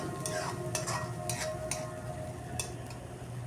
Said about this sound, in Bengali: মশলাটাকে খুব ভালো করে কষিয়ে নিচ্ছি